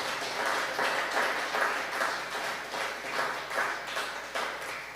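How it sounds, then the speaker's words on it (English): At a 25th anniversary awards presentation, an audience gives an honoree a steady round of applause, with moderate clapping that rises and falls in soft waves and has no speech over it. "I think we should give her one more round of applause"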